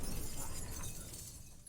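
A mirror shattering in The Witcher 3: Wild Hunt, Hearts of Stone: a loud, steady burst of breaking glass that rings through about a second and a half before thinning slightly at the end.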